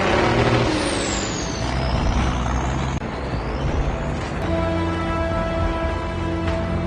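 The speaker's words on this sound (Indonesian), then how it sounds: "Menggunakan truk yang dilengkapi mesin jet turbin, mereka langsung berangkat saat itu juga." A truck fitted with a jet turbine engine departs in a Jackie Chan film, heard as a loud, steady roar with rising and falling whine sweeps, a hissing air-brake release and sustained high tones, with no voices.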